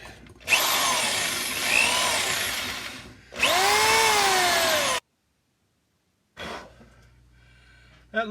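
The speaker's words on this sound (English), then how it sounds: "take the wire brush." A drill spinning a wire brush cleans rust from the lifter bores of a Cat 60 engine, two loud close bursts of whining, scraping brushing with a pitch that rises and falls, then silence and a short final spin.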